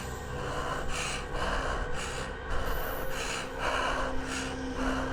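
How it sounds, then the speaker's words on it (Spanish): Slow, heavy breaths in a steady rhythm, each inhale and exhale deep and close, with a moist, rasping quality. "Después escuché una respiración."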